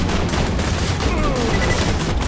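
Turret gunfire in the Borderlands 2 video game, a dense, loud stream of rapid shots with clattering impacts, continuous for the whole moment.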